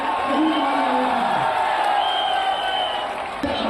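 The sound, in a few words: crowd applauding and cheering at political rally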